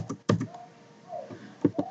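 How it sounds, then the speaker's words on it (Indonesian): A computer keyboard is typed on while working in AutoCAD 2007, a few sharp, close key clicks coming in small bursts separated by brief pauses. "tekan enter atau space 2 kali"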